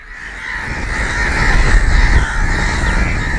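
Many crows caw loudly and continuously in a large flock, with overlapping harsh calls close by and a steady noisy background throughout.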